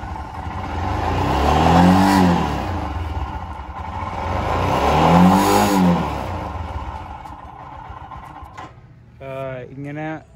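A Royal Enfield Himalayan motorcycle that vibrates around 4000 RPM revs up and back down twice in long, loud swells, then idles as a voice briefly speaks.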